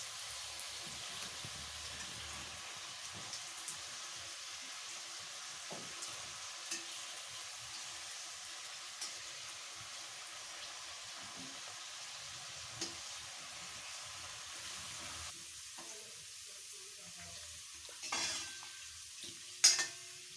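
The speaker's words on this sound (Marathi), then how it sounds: "आपल्याला पुऱ्या ह्या लालसर तळायच्या आहे मीडियम" Puris deep frying in hot oil over medium flame for pani puri give a soft, continuous bubbling sizzle, fairly faint and even, with a few louder crackles and clatters near the end.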